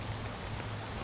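Steady rain falling on surfaces in the video game Shadows of Doubt, a dense even patter that holds at a constant level, with no talk over it.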